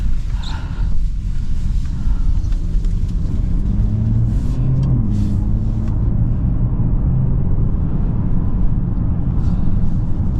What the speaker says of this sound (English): Now the engine is fully on.